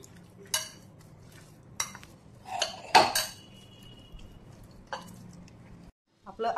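Gram flour batter for alu vadi being stirred in a bowl, with scattered clinks and scrapes of a spoon against the vessel, a few sharper taps, close and moderate, with a voice talking in the background.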